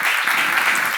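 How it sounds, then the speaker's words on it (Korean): Church congregation clapping at a pastor's seminary lecture, a brief, loud, even burst of many hands applauding together. "여러분 주머니에 하나님 채워줄 거면 박수 한번 치세요"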